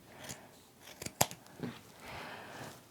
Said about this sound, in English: I'm just going to cut that with my regular scissors